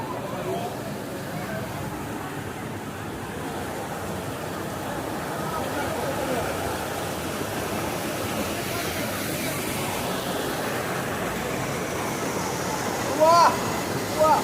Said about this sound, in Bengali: এই যে জলটা এখান থেকে বেরোচ্ছে।